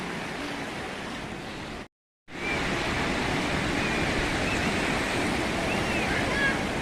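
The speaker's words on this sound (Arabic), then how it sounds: "دابا البحر جاي" Sea waves washing on a beach, a steady broad roar of surf close by, briefly cut to silence for a moment before resuming at the same level.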